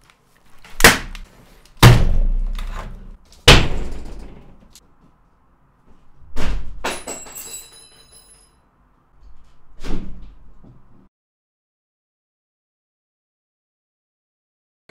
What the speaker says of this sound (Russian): я тут это по двери немножко уебал